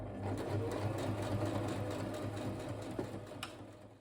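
A sewing machine stitching the sleeve of a haori kimono jacket, a steady close whirring hum with rapid needle chatter that runs continuously and tapers slightly at the end.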